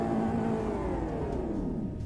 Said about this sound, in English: Now let's hear her rev.